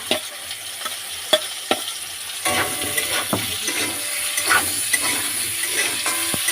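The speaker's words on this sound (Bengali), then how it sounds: "ভাজা ভাজা করে দিচ্ছি এবার এগুলো দিয়ে দেবো একে একে ভাজা ভাজা এগুলো দিয়ে দেবো সবজিগুলো" Vegetables for Bengali shukto fry with ginger paste in a pan, a close, steady sizzle punctuated by repeated sharp spatula knocks and scrapes as they are stirred.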